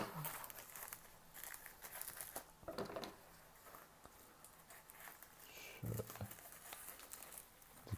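A rebuild kit package for a two-stroke marine engine carburetor is cut open, giving faint crinkling and rustling of packaging with a few sharper crackles, quiet and close.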